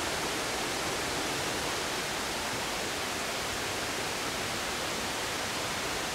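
Creek water in an Alaskan Bigfoot-hunt video game, a steady broadband rush with no breaks or changes, loud and constant for the whole stretch, with no voices over it.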